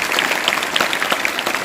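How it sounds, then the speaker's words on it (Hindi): A school class claps on cue after a correct quiz answer, a brisk, loud burst of many small hands clapping close together and continuing without talk. "ताली बजाओ।"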